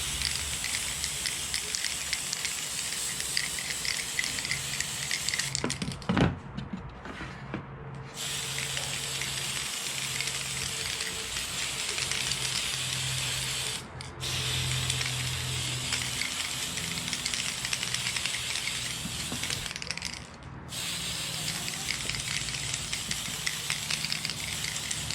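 Metal flake paint is sprayed onto an Arrma Limitless RC car body covered with protective film. A loud, continuous aerosol hiss runs in long bursts, broken by a few short pauses.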